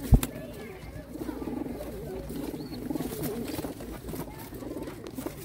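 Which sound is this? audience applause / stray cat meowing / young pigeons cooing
young pigeons cooing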